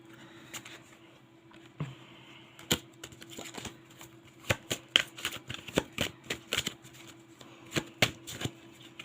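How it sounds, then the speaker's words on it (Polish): Tarot cards being shuffled and dealt on a table: a quiet hum first, then a dense run of sharp close snaps and flicks that speeds up and grows busier toward the end. "Aha, lecą nam karty."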